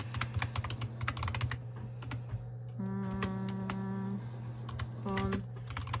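Typing on a computer keyboard, rapid clicking keystrokes in uneven bursts, close and clear over a low steady hum, with brief electronic tones in between.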